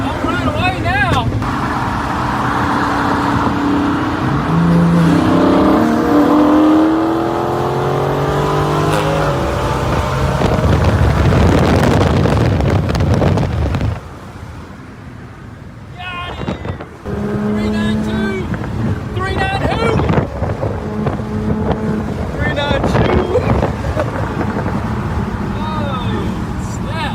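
A 2023 BMW M3 with a downpipe and full exhaust drives off hard, its loud raspy engine climbing through rising revs and gear changes, then easing to a burbling idle with people talking over it.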